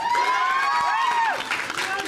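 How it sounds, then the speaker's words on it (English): Audience cheering and clapping as panelists are welcomed, with loud whoops and pitched shouts over a bed of clapping and crowd noise. "Wait, why am I applauding?"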